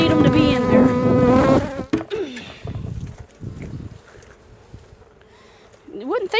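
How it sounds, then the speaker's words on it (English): Honey bees swarming over an opened hive during a late-season check before winter, a dense agitated buzz under a person's talking, thinning to a lighter hum of nearby bees. "Look at all them bees up there on the top. They're highly ticked off now."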